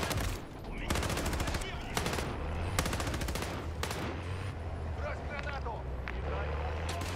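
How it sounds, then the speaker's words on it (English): Rapid automatic gunfire in the MW3 Zombies video game, bursts of dense shooting repeating loudly over game noise and a low rumble, with a voice talking along throughout. "that's a lot of shooting"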